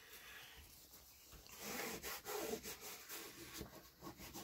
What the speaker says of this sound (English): just burnish all of this down